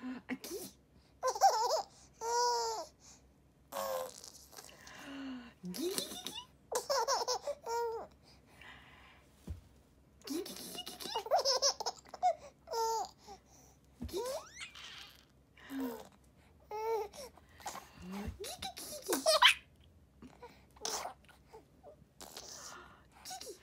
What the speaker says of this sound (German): Mit Baby im Hintergrund.